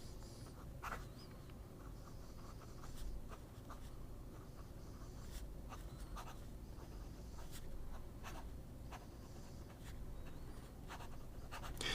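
Scratchy strokes of a fine-nib fountain pen moving across paper, soft and close, with short irregular scrapes and pauses over a faint hum, no voices.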